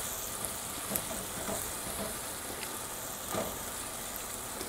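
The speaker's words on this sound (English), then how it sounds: "our onions sauteing in our olive oil and butter mixture." Onions sauteing in an olive oil and butter mixture in a pan for a Spanish-style littleneck clam dish, a steady soft sizzle and crackle with a few light stirring scrapes, no talk.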